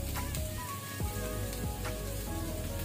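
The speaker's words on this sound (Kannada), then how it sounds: "ಸ್ವಲ್ಪ ಈ ರೆಸಿಪಿಗೆ ಈರುಳ್ಳಿ ಜಾಸ್ತಿ ಯೂಸ್ ಮಾಡೋದು. ಅದು ಪಿಂಕ್ ಗುಲಾಬಿ ಬಣ್ಣ ಬರುವ ತನಕ ನಾವು ಫ್ರೈ ಮಾಡ್ಕೊಳ್ಳುವ" Plenty of onions frying in oil for an egg drop masala, a dense close sizzle with crackling pops and sputters running continuously throughout.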